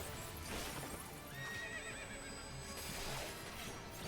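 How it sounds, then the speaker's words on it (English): The Kelpie, a large horse boss in the video game Final Fantasy XIV, lets out a loud, shrill whinny over a dense background of game music and combat effects, with hoof-like thuds mixed in. "A big horse, Kelpie."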